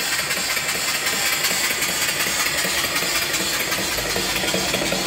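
A live steam engine on a wood base, turning a 16-inch pulley whose belt drives an alternator, runs with a steady, busy mechanical rumble and chuffing texture, close and constant throughout.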